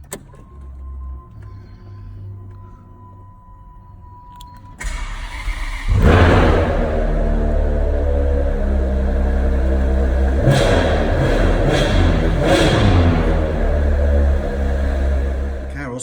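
A Ferrari 599 GTO V12 engine cranks and fires into a loud, deep idle with a couple of throttle blips, following a faint electric whine.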